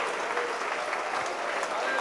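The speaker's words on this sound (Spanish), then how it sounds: "aplaudiendo la presencia de Dios." A church congregation claps together in steady, dense applause, a full room of hands sounding continuously with some voices mixed in.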